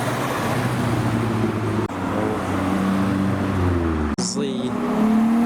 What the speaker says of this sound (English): this is MX-5 number 1001 coming around the corner